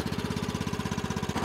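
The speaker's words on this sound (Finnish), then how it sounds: "Ja moottori käynnistyy heti." A Wiljam VL100 small loader's engine running, a close, rapid, evenly pulsing chug with a steady throbbing rhythm.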